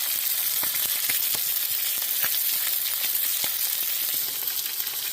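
Onions hiss and sizzle on a hot plate outdoors at Reedy Creek, Eldorado, a loud, continuous crackling fry close by with scattered pops and no talking.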